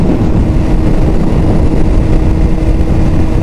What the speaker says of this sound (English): once you hit about 60 miles an hour there, the wind noise really starts to get up